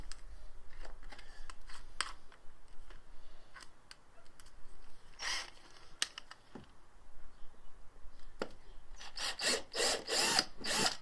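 A drill works on the plastic bumper of a Fiat 500 to make a hole for parking sensors. Scattered scrapes and taps come first, then a close cluster of rapid, loud drilling bursts near the end.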